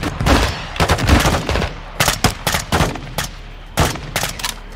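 Gunfire in the Modern Warfare 2 campaign during a prison break mission in Mexico: loud, close bursts of rapid shots and single cracks in quick clusters, separated by brief pauses.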